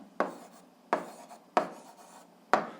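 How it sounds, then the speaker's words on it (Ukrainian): Pen or chalk writing down a math answer during an algebra lesson, four distinct scratchy strokes at a slow irregular pace, close and fairly quiet with no talking. "Пишемо відповідь"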